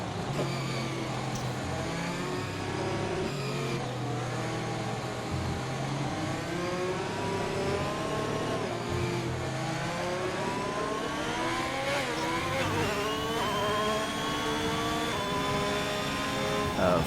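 Onboard race car engine in a racing video game at a safety car restart, revving steadily then climbing through the gears with rising pitch toward the end, loud and continuous.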